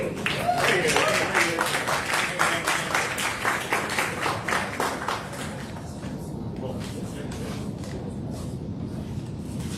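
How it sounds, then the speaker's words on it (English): An audience at the Armed Forces Jam, a live event at the Central Florida Tech Grove, breaks into dense, loud clapping for about five seconds before it thins and fades under a murmur of crowd voices. "Give him a round. Round of applause."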